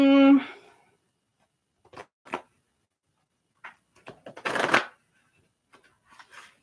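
Tarot cards are shuffled in a few short bursts of riffling and flapping, close and fairly crisp, with quiet gaps between them, after a brief voiced sound at the start.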